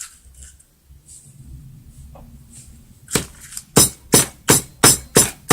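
Karuk leaves are pounded in a mortar for an herbal cough remedy: after quiet handling, about eight sharp, evenly spaced thuds ring out close and loud.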